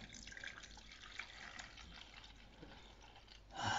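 Fabric softener poured into the drawer of a Rommer Nautilus washing machine, a faint trickling, dripping liquid stream that turns louder and splashier at the very end.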